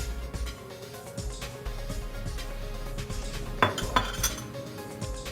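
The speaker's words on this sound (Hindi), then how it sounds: "और अब मैं इसमें पूरा मैदा ऐड करके अच्छी तरह से बीट कर लूँगी।" A spoon or whisk beats cake batter of flour and milk in a bowl for a vanilla sponge cake, giving steady rhythmic scraping and clinking against the bowl, with a couple of sharper clinks near the end.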